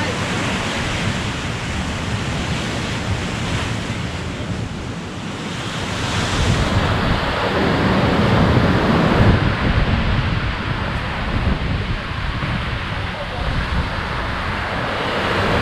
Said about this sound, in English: Look at that ocean.